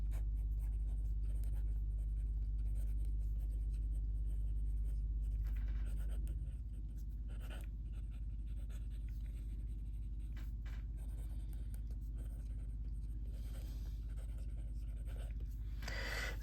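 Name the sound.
writing with Tom's Studio Wren fiber tip fountain pen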